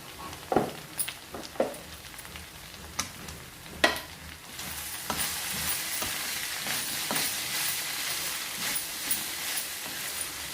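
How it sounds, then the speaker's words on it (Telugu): Pieces of ivy gourd (dondakaya) sizzle in a pan on the stove. A spoon stirs them with sharp scrapes and knocks early on, then a steadier, louder frying hiss builds and carries to the end. "మధ్య మధ్యలో మూత తీసి కలుపుకుంటూ మనం దొండకాయ ముక్కల్ని వేయించుకోవాలి"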